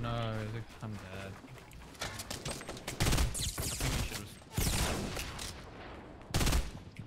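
Fortnite gunfire crackles in several loud bursts, with a heavy volley around three seconds and more near four-and-a-half and six-and-a-half seconds, mixed over game noise and voices talking.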